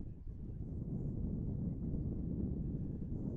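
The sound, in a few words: powerful wind gusts on the microphone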